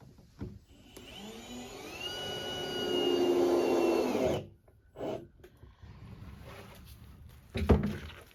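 A power drill drives screws into the bottom of a homemade barrel dog crate: a close, steady motor whine that rises in pitch for a few seconds, then stops, followed by scattered knocks and handling clatter.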